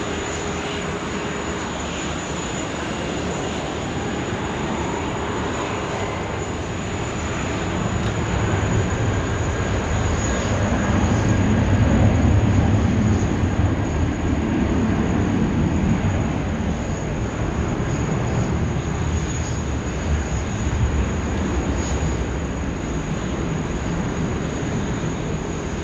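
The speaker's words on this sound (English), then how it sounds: "Jetstar 529, runway 16 right, cleared for immediate takeoff." A Jetstar airliner takes off from runway 16 right at Sydney Airport, a broad, steady jet engine roar that swells to a peak midway and then holds as a sustained rumble, with no voices.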